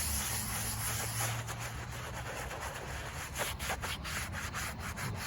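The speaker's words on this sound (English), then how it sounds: "I'm going to go ahead and scrub this stone down." A veteran's stone footstone is scrubbed clean outdoors with a brush, giving a continuous, close, coarse rubbing and scraping that keeps a steady back-and-forth rhythm throughout.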